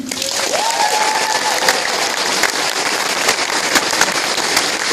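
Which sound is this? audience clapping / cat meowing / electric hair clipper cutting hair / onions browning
audience clapping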